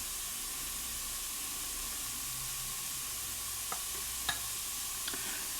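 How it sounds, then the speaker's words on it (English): An egg mixture for a lobster and asparagus omelet hits a hot pan, giving a steady, even sizzle throughout, with a couple of faint clicks near the end. "And then we'll put our egg mixture in here."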